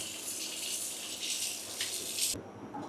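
Tap water runs steadily into a vessel while urad dal is washed for making vada in a home kitchen, a close, constant gush that cuts off abruptly near the end.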